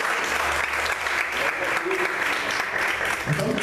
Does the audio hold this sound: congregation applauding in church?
yes